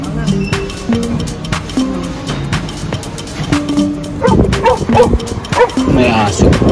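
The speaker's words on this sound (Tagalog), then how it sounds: "May aso." A dog inside a van barks in short repeated yaps and whines during an outdoor dumpster-diving trip. People talk loudly nearby over busy background clatter.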